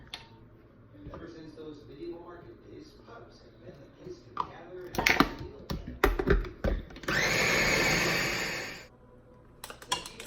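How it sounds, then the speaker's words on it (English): An electric blender whirs for about two seconds as it purees a peanut dipping sauce with soy sauce, fish sauce and water, following clattering and speech in a home kitchen. "It's nice to have a blender because it's easier."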